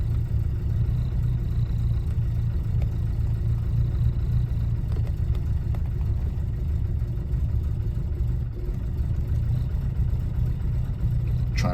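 A 1967 Alfa Romeo Giulia 1300 ti engine running steadily after a cold start while the choke is adjusted, a close, continuous low rumble with no talk over it.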